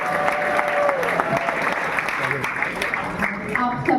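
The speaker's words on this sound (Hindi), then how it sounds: "एक बार जोरदार तालियां रमेश सुहेल के लिए" A crowd applauds for Ramesh Suhel at a song launch event, a dense steady wash of clapping throughout, with music and voices mixed underneath.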